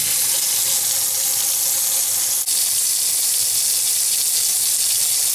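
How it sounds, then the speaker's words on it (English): Tap water running steadily as a scarf is rinsed under it, a constant close hiss and splash that holds evenly throughout with no talking. "I'm rinsing it completely so there's no residue"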